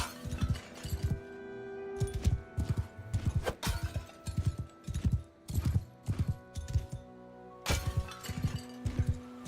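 A horse gallops in the game Mount and Blade: Bannerlord, with hooves pounding in quick clustered bursts, close and loud, broken by short pauses and a few sharp clattering impacts.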